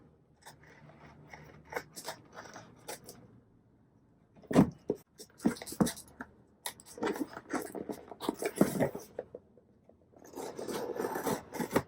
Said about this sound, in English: if we bust out the handy dandy scissors, and I am opening it for the first time